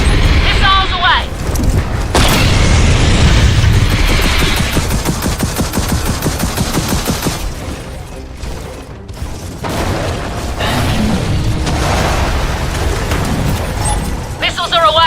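Missiles launch and explode in the video game Gears of War 4, deep booms and rumbling blasts mixed with rapid machine-gun fire and mechanical clatter, loud and continuous, with bursts of talk over the action.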